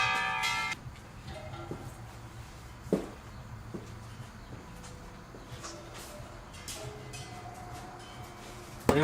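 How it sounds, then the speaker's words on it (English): Church bells ring faintly in the distance, a soft, intermittent tolling under low background noise and occasional nearby shuffling and clicks, with no speech. "Don't mind the church bells in the background."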